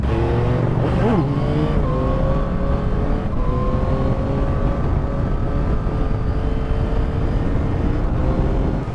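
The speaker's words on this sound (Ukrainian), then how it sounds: "Обкатку проходимо на мотоциклі." A BMW M1000R sport motorcycle engine on a break-in ride, its revs rising and holding in a loud, close, sustained whine with shifting pitch over heavy wind rush, no talking.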